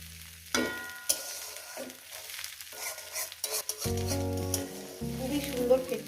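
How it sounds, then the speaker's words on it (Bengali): Slices of eggplant fry in oil over a low gas flame, a steady close sizzle broken by stirring and scraping clatter in the pan, with no one talking. "এইভাবে বেগুনটাকে আমি মিনিট দুই ধরে ভাজবো"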